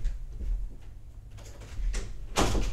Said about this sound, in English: I need to go close my door.